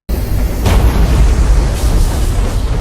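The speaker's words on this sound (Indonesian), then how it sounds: "dengan telak mengenai si monster hingga menciptakan ledakan" A huge animated cannon blast erupts into a big explosion, a sudden loud boom that rolls on as a dense, sustained roar of rumble and debris, close and overwhelming.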